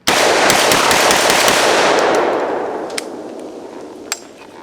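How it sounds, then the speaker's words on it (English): A Typhoon Defense F12 semi-automatic shotgun fires a rapid string of loud, close blasts that blur into a dense roar, then fade out with a couple of isolated sharp reports. "Typhoon Defense F12 is a blast. Very fun shotgun."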